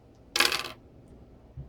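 Four dice are rolled during a Star Wars X-Wing miniatures game, giving one short bright clatter of plastic on the table that fades quickly, then a small thud near the end.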